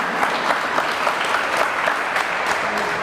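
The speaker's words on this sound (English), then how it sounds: "So everybody, big round of applause." Sustained applause from the audience at a virtual army exhibition's competition showtime, a dense, steady wash of clapping with no break for the whole stretch.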